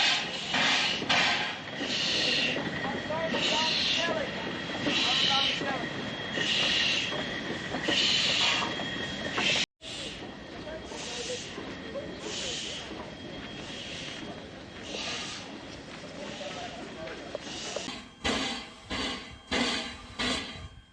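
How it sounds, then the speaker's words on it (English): A steam locomotive moves along the line near Quorn on its way back to the workshop, with a steady rumble, rhythmic clanking and squeals. It sounds moderately distant, with a brief dropout midway and louder knocks near the end. "Once the steam loco is separated from the carriages, it makes its way back to the Quorn workshop"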